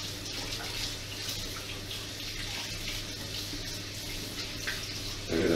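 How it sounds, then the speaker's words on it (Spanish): Cold tap water runs steadily over raw prawns in a kitchen sink, a constant hissing splash that stays even and close throughout with no voices over it. "Déjame que le pase un poco de agua."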